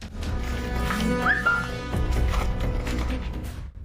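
A man whistles inside an abandoned building, giving a short rising whistle against a noisy, echoing room background, with no speech.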